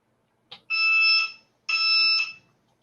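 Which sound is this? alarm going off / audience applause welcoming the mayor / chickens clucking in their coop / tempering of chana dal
alarm going off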